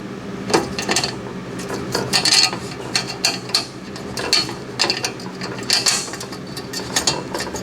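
50mm bolts are threaded by hand into metal connectors on a Vulcan welding cart frame, producing close, repeated clicking and scraping metal ticks in an irregular ratchet-like rhythm with no talking.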